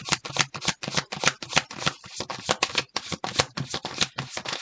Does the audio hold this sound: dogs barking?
no